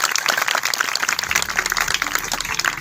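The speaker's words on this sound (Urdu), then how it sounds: "کلام پاک کے لیے زوردار تالیاں بجائیں گے۔" A church congregation claps loudly and continuously in dense, overlapping applause throughout, with a low hum underneath.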